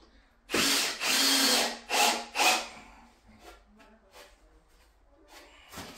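A power drill drives screws into wooden battens fixed to a brick wall, on a terrace being enclosed: several loud, close whirring bursts in quick succession, followed by quieter handling clatter and a short final burst.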